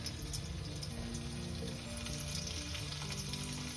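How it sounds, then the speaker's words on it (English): Paneer pieces shallow frying in hot ghee give a steady, close sizzle and crackle that runs unbroken throughout, with no talking. "we're going to have to shallow fry the paneer"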